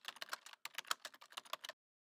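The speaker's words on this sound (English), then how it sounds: "after typing this command" Fast, crisp keystrokes on a computer keyboard enter a multi-line Bash command, two brisk bursts split by a short pause, close and clear before dropping to silence.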